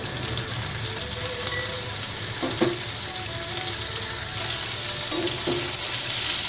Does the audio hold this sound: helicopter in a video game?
no